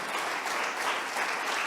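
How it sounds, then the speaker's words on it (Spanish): A church congregation applauding during a sermon, a dense, steady burst of many hands clapping together, loud and close throughout. "Fuerte ese aplauso a nuestro Dios."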